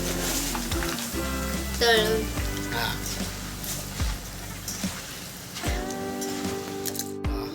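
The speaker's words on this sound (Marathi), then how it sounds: "सध्या आपण कच्चा मका भाजून घेत आहोत तळून घेत आहोत" Raw corn kernels roast and fry in a pan for corn chivda, giving a continuous close sizzle with stirring and scraping. Brief squeaks and clatters from the pan are heard over the sizzle.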